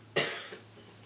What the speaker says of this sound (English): That cough was unintentional.